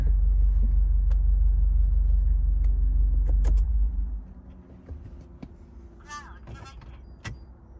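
A running car engine rumbles steadily, then shuts off, leaving a quiet cabin with a few small clicks and a faint whirring, in a car fitted with a BlackVue 750-2CH LTE dashcam stuck in a reboot loop.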